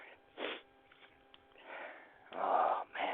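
Several quick nasal sniffs come close to the microphone, short bursts of breathy air separated by pauses, with the last couple longer and stronger.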